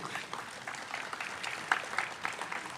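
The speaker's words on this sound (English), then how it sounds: "Give yourselves a warm round of applause for making it out this evening." Scattered applause from an audience at a community heroes ceremony, fairly faint and distant, with uneven claps and a few sharper hand claps standing out.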